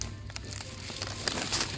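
A packet of classic ground coffee crinkles as it is lifted from a supermarket shelf, giving quick papery rustles and small crackles over a low background hum of the store.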